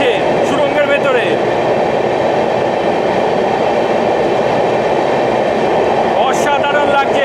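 A 22-coach passenger train runs through a long lit tunnel, giving a steady, loud, enclosed roar of wheels and carriages with faint metallic squeals and rattles, sustained throughout without letup.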